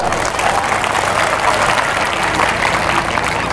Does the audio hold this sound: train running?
no